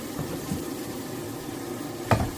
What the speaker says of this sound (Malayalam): വെണ്ടയ്ക്ക നന്നായിട്ട് ഇളക്കി കൊടുക്കാം അത്യാവശ്യം നന്നായിട്ട് ഫ്രൈ ആവണം കേട്ടോ